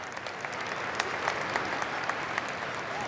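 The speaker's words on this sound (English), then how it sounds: "Let's give them another round of applause." Audience applause at a University of North Dakota pre-commencement celebration show, a steady, dense crowd clapping filling the hall for the full stretch with individual sharp claps poking through.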